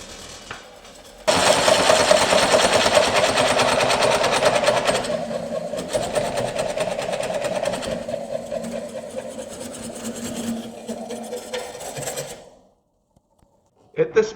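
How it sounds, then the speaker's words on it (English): A Woodcut Bowlsaver MAX3 coring blade cutting a bowl on a wood lathe gives a loud, steady buzzing chatter whose pitch shifts as the cut deepens toward the centre, then stops abruptly. "You can hear the change in sound as you near the center of the bowl."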